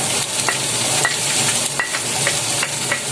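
Ginger hits a hot pan for sautéing, a close, steady sizzle broken by repeated light clinks and scrapes of stirring.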